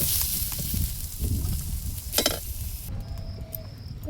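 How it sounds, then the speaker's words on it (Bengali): Snake gourd stirred in hot oil in a home kitchen pan, a close steady sizzle with scraping stirs and a brief clatter of utensil against the pan, no talking. "তো ওটাই একটু নেড়ে নেব তেলে।"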